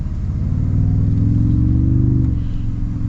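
A 2025 Toyota Tundra TRD Pro accelerates, its engine a loud, steady low-pitched rumble that climbs slightly in pitch, holds, then eases off near the end.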